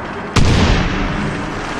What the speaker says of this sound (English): Aw, grenade.